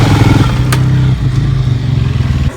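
An enduro motorcycle engine runs close and loud, its steady throbbing idle and rev rising and falling over a couple of seconds with a brief dip midway, and no one speaking.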